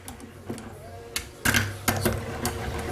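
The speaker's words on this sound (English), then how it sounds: "Go ahead and drive your bolts in without tightening them up." A speed handle drives bolts into a Honda transmission valve body, giving a series of quick metallic clicks and ratcheting bursts, irregular and close, growing busier toward the end.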